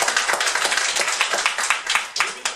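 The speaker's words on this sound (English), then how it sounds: "Give it a round of applause." A small group claps for a speaker at a speech evaluation session, a short burst of quick, distinct hand claps at moderate volume with a slightly irregular rhythm.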